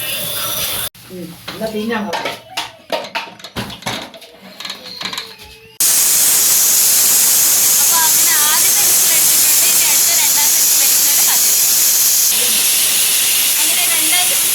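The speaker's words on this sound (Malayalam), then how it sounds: "ഇത് അടച്ചു വെച്ച് ഒരു രണ്ട് മൂന്ന് വിസിൽ അടിച്ചു കഴിഞ്ഞാൽ" A few seconds of muffled speech and kitchen clatter, then a pressure cooker's whistle breaks into a loud, steady rush of escaping steam that continues to the end, while cooking a lamb trotter soup.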